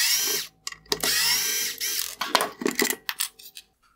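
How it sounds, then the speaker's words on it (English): A power screwdriver whirs in several short bursts, close and fairly loud, removing T10 Torx screws from a 2020-2022 Porsche Taycan LED headlight, with brief pauses and small clicks between runs. "Next, I'll remove the two T10 torque screws holding on the other reflector."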